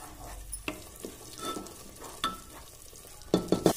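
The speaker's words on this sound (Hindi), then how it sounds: "तीन से चार मिनट के लिए मीडियम फ्लेम पर इसको फ्राई करेंगे" Onion, garlic and ginger frying over a medium flame in a pan, a soft continuous sizzle broken by scraping stirs and a few sharper clanks toward the end, with no talking.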